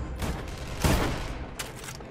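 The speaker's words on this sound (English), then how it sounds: "I think he shot him in the shoulder and Luther dropped" A gunshot from the 2018 action film Mission: Impossible - Fallout, one sharp loud crack that rings out briefly over a low background score.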